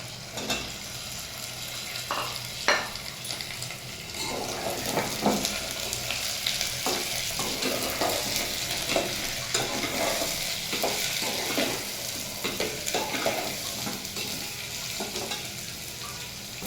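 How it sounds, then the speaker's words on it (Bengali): Pumpkin, carrot and green chilies fry in a pan with a continuous soft sizzle. A spoon stirs the vegetables, making scattered light scrapes and taps close by, and no one speaks. "হলুদ, হলুদটা মিশিয়ে ভেজে নেব।"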